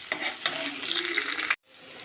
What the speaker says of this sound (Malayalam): ഞാൻ ഇപ്പോൾ എടുത്തേക്കുന്നത് സവാള, വെളുത്തുള്ളി, പച്ചമുളക്, ഇത്രയും സാധനങ്ങൾ നമുക്ക് നന്നായിട്ട് വഴറ്റിയെടുക്കണം